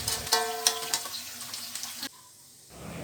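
Thinly sliced tempeh fries in hot oil with a bright sizzle and a few clattering stirs early on, then the sizzling drops away briefly before returning softly.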